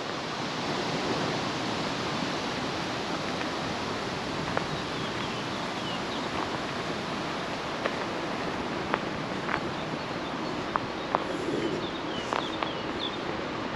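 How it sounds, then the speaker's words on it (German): Steady running water at a water point beside a cycling rest area with benches, grill and fire pit, a constant broadband rush with faint bird calls on top, heard alone without talk. "Und eine schöne Wasserstelle."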